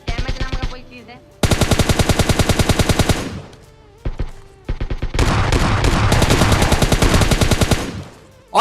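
Automatic gunfire from a gun in a video game, loud rapid bursts of evenly spaced shots separated by short pauses, with a long continuous burst near the end.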